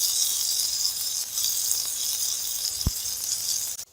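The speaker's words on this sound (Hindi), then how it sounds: "बस इसी तरह अब हम सारे फ्राई कर लेंगे।" Chicken kebabs frying in a pan give off a steady, bright sizzle and hiss throughout, with one soft thump partway through and no talking.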